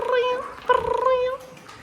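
A person imitates a cat, giving two drawn-out, nasal meows close to the microphone, with a horse chiropractic session going on around them.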